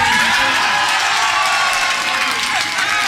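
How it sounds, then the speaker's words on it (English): Audience applause and cheering at an armwrestling event for Ron Bass, a steady loud wash of clapping from a large crowd, with voices mixed into the din throughout. "Let's give a hand of applause for Mr. Ron Bass"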